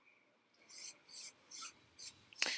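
Fingers rub and blend paint on a canvas in four soft, even rasping strokes that start and stop in a steady rhythm. A sharper scrape follows at the end, close and quiet, with no talk.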